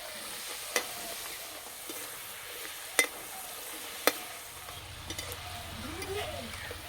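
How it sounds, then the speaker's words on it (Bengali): Homemade potato chips, soaked in salt water, fry in hot oil with a quiet, even bubbling sizzle broken by a few sharp utensil clicks, close by and no voices. "এইভাবে একটু সময় নিয়ে ভাজতে হবে।"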